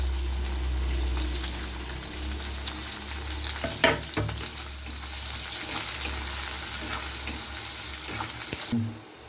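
Chopped onion fries in hot oil with cumin seeds, a close steady sizzle broken by stirring scrapes and a few utensil knocks, fading near the end.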